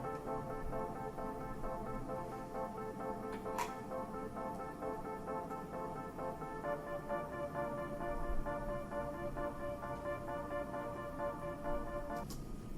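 Sustained layered synth tones from a pad sampled into Simpler in Ableton, steady stacked harmonic notes holding and shifting pitch partway through, with a couple of brief bright clicks, moderately loud and alone.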